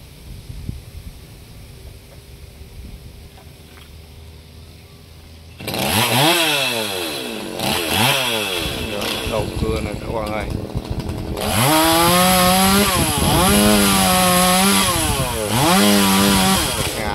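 A G4200 chainsaw cuts a golden wattle tree near Tri Tôn. After several seconds of near quiet, the engine roars in loud, close, repeated rev surges that rise and fall, ending in a sustained high whine.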